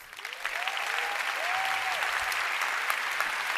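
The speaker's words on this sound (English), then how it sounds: "one more round of applause for Barber Duty" Applause from a conference audience at the end of a product management talk, a steady, moderately loud wash of clapping with a few faint whistle-like tones near the start.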